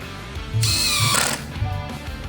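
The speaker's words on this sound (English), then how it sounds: "drilled out 2 pilot holes on each side" A power drill bores a pilot hole into the wooden trunk framing of a Ford Model A luggage trunk: one loud, sustained whine of under a second, with quieter handling clatter before and after.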